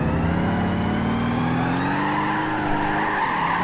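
A truck driven in Gran Turismo 5, its engine droning steadily with rising and falling pitch as the tires squeal through a slide, loud and continuous throughout.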